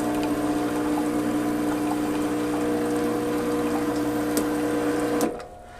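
Home espresso machine without a PID pumps water through the group head while brewing Cuban coffee, a steady loud pump drone with water flow that runs unbroken and then cuts off abruptly near the end.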